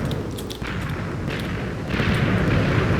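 Minecraft piston-loaded semi-automatic TNT cannon firing in the game, a broad rumbling blast that swells louder near the end, with dense booming noise throughout and no talk.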